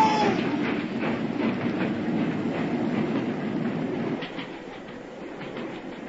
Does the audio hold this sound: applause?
no